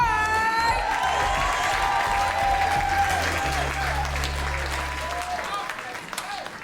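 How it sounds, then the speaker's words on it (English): A poetry slam audience applauds and cheers loudly for the last poet, with a sustained wash of clapping, whoops and a low hum underneath, easing slightly near the end. "Please clap it up for your last poet, Timothy DeWine."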